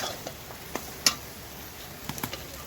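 Potatoes stirred with prawn head paste in a frying pan for a curry, giving a soft low sizzle with scattered scrapes and a few sharp clicks of the utensil against the pan, no talking.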